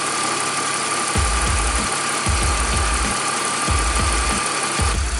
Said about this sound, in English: just let the car run about 10-15 minutes, let the thermostat open so the coolant could recirculate in the whole coolant system